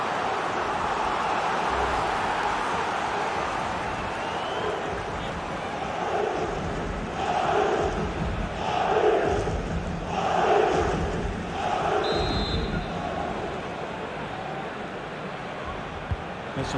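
A stadium crowd in FIFA 23 roars and chants throughout a Real Madrid versus PSG Champions League final, swelling in rhythmic waves beneath a commentator's voice.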